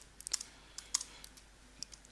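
A handful of quick, light keystrokes on a computer keyboard, close and quiet, in scattered irregular clusters over an otherwise silent room.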